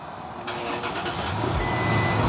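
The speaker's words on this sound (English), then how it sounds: "So let's turn on my truck." A Toyota Tacoma pickup fitted with 285 tires cranks and starts up nearby, a brief burst of starter noise giving way to a rising, steady engine hum.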